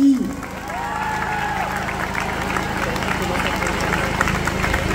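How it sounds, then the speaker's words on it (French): Crowd at the opening speech of Chambéry Pride 2024 breaking into applause, a steady mass of clapping with some cheering mixed in, loud and continuous after a brief thump at the start. "je crois que ça s'applaudit, c'est une sacrée avancée dans notre pays"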